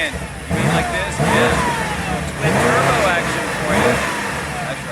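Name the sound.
twin-turbo car engine revving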